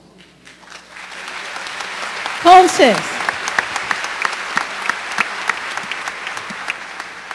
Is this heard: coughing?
no